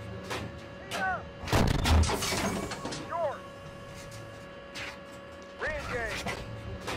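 Tank cannon fire in the tank simulator Steel Beasts Pro, from an M60A3 or M1-series tank on a firing range: a heavy booming shot followed by rumbling mechanical noise, with crew voices and radio chirps around it.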